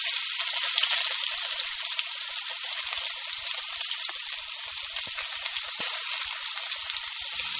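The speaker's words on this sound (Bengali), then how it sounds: "যখন ব্রাউন হয়ে আসবে তখন ওর মধ্যে দিয়ে দেব কিছু রসুনের কোয়া।" Garlic cloves fry in hot oil with a loud, continuous crackling sizzle up close, dense and even from start to finish and with no talking over it.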